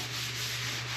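Steady, close sanding on the body of a 1968 Chevelle being patched, a continuous dry abrasive rub with a constant low hum underneath and no pauses.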